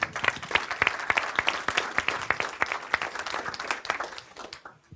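Seminar audience giving a round of applause, crisp individual claps forming a lively, close patter that gradually thins out and fades toward the end.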